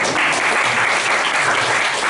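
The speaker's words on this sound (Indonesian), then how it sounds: "Ada tepuk tangan buat Tuhan Yesus" Steady, dense applause from a church congregation during a sermon, many hands clapping continuously and loudly throughout with no break.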